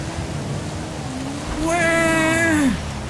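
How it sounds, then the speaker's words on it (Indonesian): Steady rain hisses in the GTA 5 video game, a constant wash of noise, until a loud, rising and falling engine-like whine cuts over it partway through. "Kita ngetrek di daerah sini dengan cuaca hujan."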